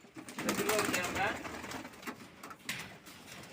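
Racing pigeons coo in a loft in soft, throaty, rolling murmurs, close by, beneath someone talking.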